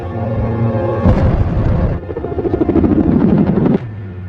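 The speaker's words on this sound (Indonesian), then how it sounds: "Tapi tiba-tiba helikopter datang dan langsung menembak Georgie dengan bius." A helicopter's rotor thumps loudly and close, with a booming surge partway through as it roars overhead.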